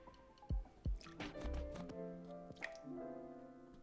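Egg Beaters liquid egg whites poured into a mixing bowl for chocolate chip zucchini muffins: two soft wet plops, then a glugging, dripping stream of liquid, close and quiet, with no speech.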